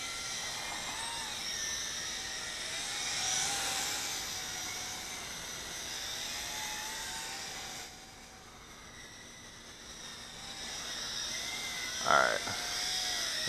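A YiZhan X6 Tarantula quadcopter drone flies with a steady high-pitched whine from its motors, rising and falling in pitch as it maneuvers, with a brief sharper burst near the end.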